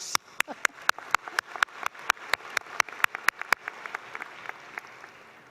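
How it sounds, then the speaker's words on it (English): Applause from a business school master's and doctoral commencement crowd: distinct, fairly faint claps ring out in a quick irregular run over a soft hall background, then thin out and fade. "I want to give a special round of applause again for 2022"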